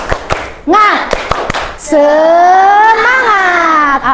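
A class in an Islamic education lesson performs the tepuk semangat clapping routine: a few crisp, rhythmic claps, then a group of voices chanting together loudly in a sustained call, close in a classroom.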